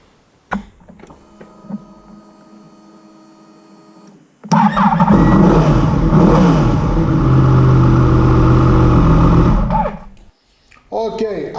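Quiet tones and a few clicks, then a Yamaha MT-10 (FZ-10) motorcycle engine starts with a sudden burst and runs loudly at a steady idle before cutting off near the end.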